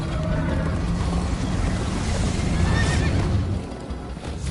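A horse neighs loudly in Minecraft: Story Mode over rushing, splashing background noise, the whinny rising and trailing off near the middle.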